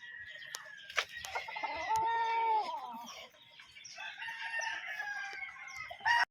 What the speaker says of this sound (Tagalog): Mga manok ni John Ray dito mga boss.